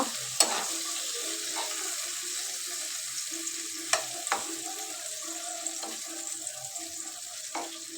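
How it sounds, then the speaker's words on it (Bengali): Shelled, deveined shrimp seasoned with salt and turmeric frying in a pan at home, giving a steady quiet sizzle broken by a few sharp clinks and scrapes of a utensil, with no talking. "এই তো চিংড়ি মাছটি আমি দিয়ে দিচ্ছি ভালো মতো ভেজে নেব"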